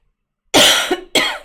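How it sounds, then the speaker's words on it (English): A person coughs twice, sharp and close, with a short gap between the bursts and silence before. "I'm going to have to drink something to avoid coughing"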